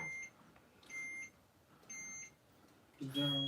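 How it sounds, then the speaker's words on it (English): A heat press signals a finished transfer with three evenly spaced, high electronic beeps at moderate volume, followed by a louder burst of sound at the end. "When it's ready to come up, it'll start beeping and let you know it's time."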